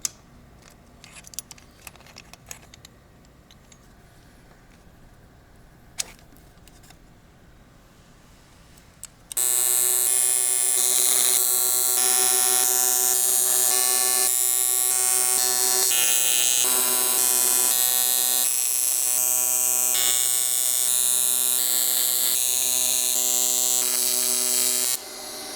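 A tack weld goes onto a turbo intercooler pipe on a Nissan Cefiro with a K24 engine, a loud, steady buzzing crackle. It follows a quiet stretch of faint shop clicks and runs without pause to the end.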